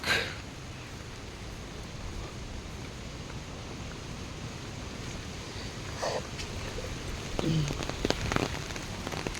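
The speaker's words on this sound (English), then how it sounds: "Raining." Steady rain falls during a nature walk in the Coorg (Kodagu) countryside, a continuous broadband hiss with a few louder drops and small knocks near the end.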